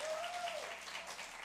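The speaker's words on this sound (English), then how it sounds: "Give them another round of applause." Audience at a live bluegrass radio show applauds briefly, a dense wash of clapping heard throughout the short moment.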